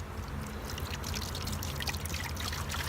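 Sugar water, a 50-50 mix of sugar and water, is poured steadily as bee feed, a continuous close trickling stream with no talking.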